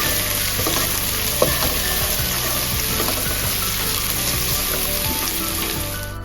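Sliced onions fry steadily in a hot pan, a loud continuous sizzle with occasional stirring scrapes and small pops, close up with no voices.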